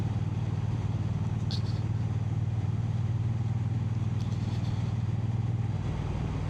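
A Triumph Bonneville T100 motorcycle ridden through fog gives a steady low engine drone with constant wind rush and a couple of faint ticks, close and continuous throughout.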